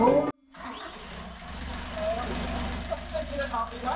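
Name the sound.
lifeboat engine being test-started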